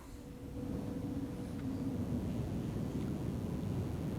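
A small 5V cooling fan for a Raspberry Pi or Arduino runs steadily and quietly, giving a soft, even low whoosh of air with a faint tonal hum, close to the microphone and with no talking.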